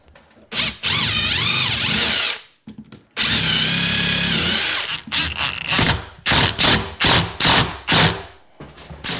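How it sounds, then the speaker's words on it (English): A power drill drives a screw into an RTA kitchen cabinet between the hinge and clamp, with two long steady whirring runs followed by a series of short, evenly spaced bursts as the screw seats, close and loud. "I'll go in between the hinge and the clamp with a screw"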